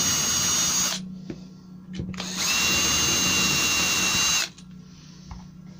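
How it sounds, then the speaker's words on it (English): A power drill fitted with a Forstner bit bores a concealed cabinet hinge hole, revving in a loud, steady whine for about a second, then pausing briefly before a second, longer boring burst, with a low hum in between. "Set your drill going, then push it in."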